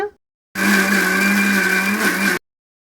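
A mixer grinder whirs loudly and steadily for about two seconds, grinding soaked rice and urad dal into batter, starting and stopping abruptly with no voices.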